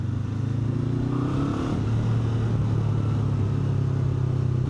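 A 2025 Honda NX500 twin-cylinder motorcycle engine running with a steady low rumble, pitch rising briefly as it revs, loud and close throughout.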